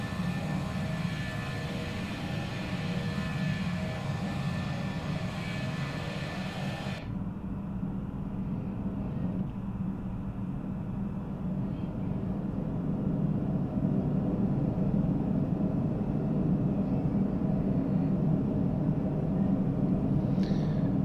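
Airliner engines in the Prepar3D flight simulator, an FSLabs A320 at Auckland, with a steady roar that turns muffled and darker as the view moves outside the aircraft, continuing as a broad constant drone.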